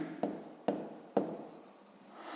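Pen strokes on paper during a sixth-grade math exercise: three sharp, evenly spaced taps or scratches, each trailing off quietly, with no talking.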